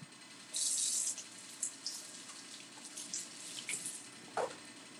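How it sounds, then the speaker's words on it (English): Tap water runs into a sink while hands are washed beneath it, a steady close hiss that swells and eases, with brief splashes near the end and no talk. "let me wash my hands"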